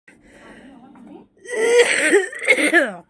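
A person coughs in a couple of loud, rough, voiced bursts at close range, after a quieter stretch of low murmuring sound.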